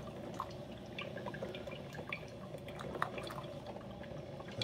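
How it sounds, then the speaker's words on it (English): Hamilton Beach FlexBrew K-Cup coffee maker brewing, with faint steady liquid trickling and scattered small drips over a low hiss, quiet and continuous. "so they both just started brewing"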